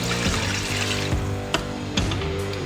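Chicken bouillon broth is poured into a pressure cooker, a steady close liquid splash and trickle running throughout with a few light knocks.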